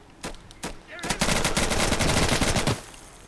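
Sustained automatic gunfire in the tactical shooter game Insurgency: two separate shots, then a dense rapid burst of rounds lasting about two seconds, loud and close, with no talk over it.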